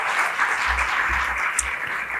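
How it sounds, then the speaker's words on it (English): Conference audience applauding a speaker, steady clapping from a seated crowd in a hall with a low rumble underneath. "So join me in giving Dr. Dave Schramm a round of applause."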